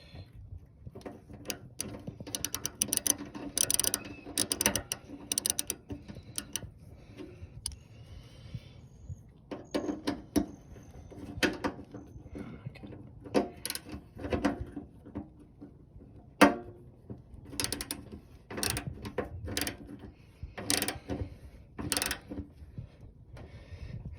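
Bolts being tightened back up on a Honda Fourtrax 300 ATV, with repeated close ratchet clicks and metallic clatter in short bursts, fairly quiet and with no talking.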